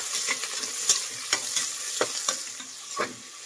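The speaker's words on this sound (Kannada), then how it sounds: "ಈರುಳ್ಳಿ ಒಂದು ಸ್ವಲ್ಪ ಗೋಲ್ಡನ್ ಬ್ರೌನ್ ಬರಬೇಕು, ಅಲ್ಲಿವರೆಗೂ ಫ್ರೈ ಮಾಡಿ" Three thickly sliced onions fry in oil for chicken biryani. A crackling sizzle runs under repeated sharp scrapes and knocks of a stirring spoon roughly every half second. It is close and clear, with no speech.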